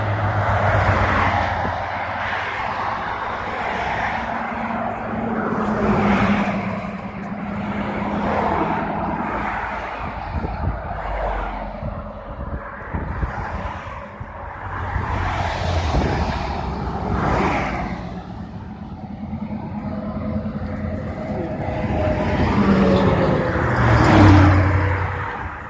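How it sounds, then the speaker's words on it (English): Several cars pass along a road one after another, each swelling from a distant rumble to a near whoosh and fading, with a continuous traffic drone between passes and the loudest vehicle toward the end. "I was just waiting for all those cars to go by because they're annoying."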